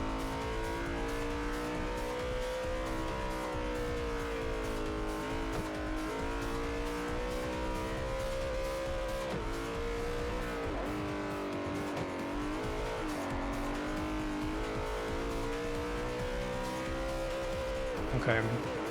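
A race car in Forza Motorsport 4 continuously revs up and eases off, its engine pitch rising and dipping in long sweeps with occasional tire squeal, loud and close throughout with a voice talking over it.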